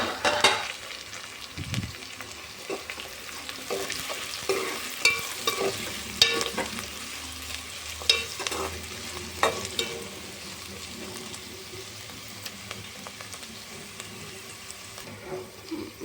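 A pan of broad bean curry being stirred, with the spoon scraping and clinking against the pan over a steady sizzle of frying. The strokes are irregular and close, and no one speaks.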